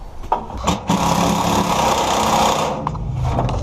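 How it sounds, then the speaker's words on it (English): Impact driver bolting a water heater strap into a wall, a loud, close, sustained mechanical whirr of a couple of seconds after a few short bursts, with no talking. "you can use impact. We're just going to bolt it into the wall."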